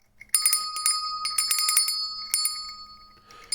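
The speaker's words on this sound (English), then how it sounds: "and so I'll ring the bell." A physical hand bell with a partly black handle is rung several times in quick succession, its bright metallic strikes ringing close and loud, each leaving a sustained shimmering tone that slowly fades; no talking.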